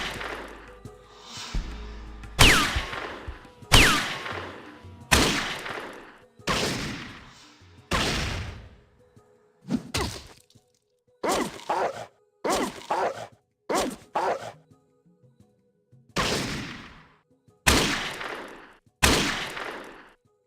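Gunfire in the Fallout 1 game, a series of about fifteen loud, sharp single shots spaced irregularly with short silent gaps between them, and no talking.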